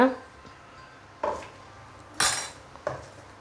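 A spoon clinks and scrapes against a bowl while rava and curd batter are mixed, giving four sharp, close knocks spaced irregularly over a quiet background.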